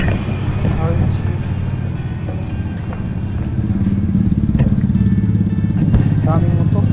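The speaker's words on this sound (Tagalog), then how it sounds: "Daming motor." Many motorcycles pass along a town street near a tricycle parking area, their engines droning and buzzing continuously nearby while people talk over the traffic.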